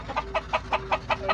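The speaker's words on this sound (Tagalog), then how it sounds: "Ang dami niya manok guys." Chickens clucking at close range in a backyard yard, a steady run of about seven short clucks at an even rhythm, with a faint steady hum underneath and no talking.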